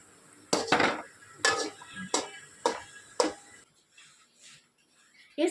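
A lid clanks on a pot and a spoon scrapes while stirring a Kerala thoran of native green beans and bitter gourd, giving about six sharp metallic knocks close up and then softer, fainter taps.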